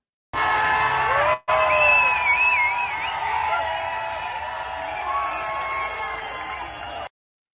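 A large street crowd in Delhi celebrates India's World Cup win with continuous cheering, whooping and shouting over a dense roar that stays loud throughout after a brief cut.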